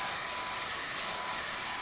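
A vacuum cleaner runs steadily while cleaning out the inside of an RV during a repair, a continuous broadband whine with an even, unbroken level and no talking.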